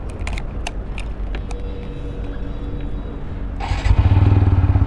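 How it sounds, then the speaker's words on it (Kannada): A TVS Apache RTR 160 4V motorcycle engine ticks over with light mechanical clatter, then swells into a louder, deeper throbbing run near the end, heard close and with no talk. "ಇಂಜಿನ್ ಸೌಂಡ್ ಈ ತರ ಕೇಳಿಸುತ್ತೆ"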